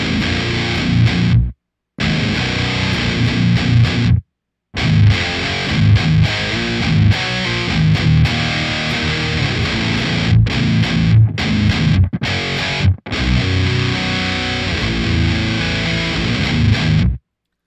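A heavy, distorted electric guitar runs through an Otto Audio amp sim at its default setting, playing thick chugging riffs in bursts broken by brief silent stops, loud and close with no talking.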